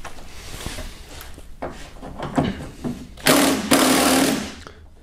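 Torx 30 bit driven by a power tool to back out the small bolts holding a Hyundai Sonata front door lock actuator, in several short rough whirring bursts, the last two louder and longer, close by.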